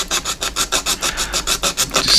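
A coarse sanding stick rasps back and forth across a plastic model car wheel tub part, about a dozen quick, evenly spaced scraping strokes, close up and fairly loud with no voices.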